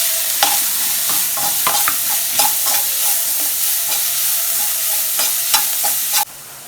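Fennel, pepper and finely chopped onion fry in hot oil for a raw banana fry, giving a loud, continuous sizzle broken by repeated spoon scrapes before it suddenly drops quieter at the end.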